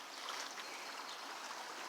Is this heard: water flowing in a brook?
yes